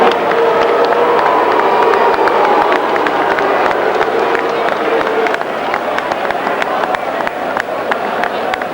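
An arena crowd at the David Tua versus Michael Moorer boxing bout gives Moorer a sustained round of applause, dense clapping and cheering that continues steadily, with a commentator's voice over it.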